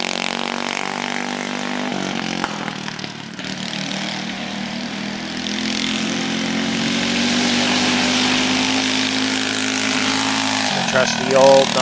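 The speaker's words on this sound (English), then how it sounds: "Trusty old number 3, the very first Galletta's go-kart." Galletta Greenhouse's number 3 go-kart, the team's first kart, rebuilt many times, drones with a steady, buzzing small-engine note that swells slightly toward the end, with voices in the background.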